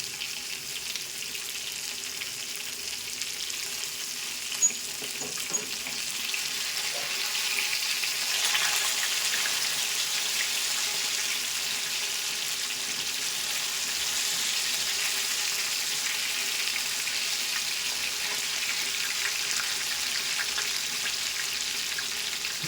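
Fish pieces frying in hot oil give a steady, moderately loud broadband sizzle with a few small clicks and pops, continuous throughout with no talking.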